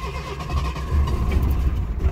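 1982 Ford Mustang Fox Body convertible with a carbureted engine cranking and catching, a low rumbling churn that swells into a rougher running engine, close and loud.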